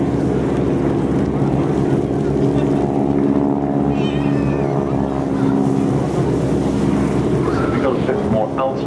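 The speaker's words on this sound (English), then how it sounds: "450 horsepower, the radial engines. Give that roar, that rasp." Biplanes with 450-horsepower radial engines roar past at the Farnborough Airshow 2012 with the Breitling Wingwalkers, giving a loud, continuous rasping drone with propeller tip noise. A voice talks over the engines.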